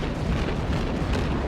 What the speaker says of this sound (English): those shells all impact on the mountainside